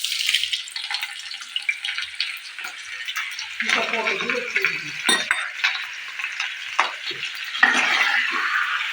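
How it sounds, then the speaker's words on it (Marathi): Loud, steady sizzling of chilies frying in hot oil, with crackles and spatters throughout and occasional clinks of a utensil. "आता कढईत आम्ही तेल टाकलंय आता आम्ही या मिरच्या ते टाकणार आहे"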